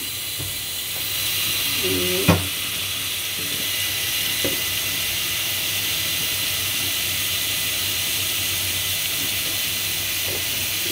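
Garlic paste sizzles in a little oil, a steady close hiss that carries on throughout, with a brief clatter near the start.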